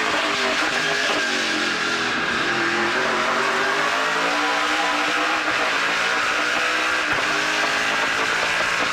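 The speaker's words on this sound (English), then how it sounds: "There's a lot of horsepower under the hood of these NASCAR stock cars." NASCAR Pinty's Series stock cars race on a rough street circuit at the Can-Am Le 50 Tours, with engines roaring loud and continuous as they accelerate and rev past, no talking.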